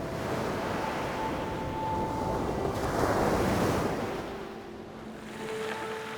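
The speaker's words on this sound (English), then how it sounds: "On Exmoor, you're never far from the sound of water." Surf and breaking waves on the Exmoor coast roll in a steady, continuous wash, with wind noise over the microphone; the roar swells slightly midway before easing.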